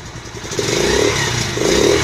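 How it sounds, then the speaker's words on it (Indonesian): A new 2019 Monkey motorcycle engine revs up twice, a close steady rumble rising in pitch with each throttle blip. "Coba kita dengerin suaranya kayak gimana ya, motor baru."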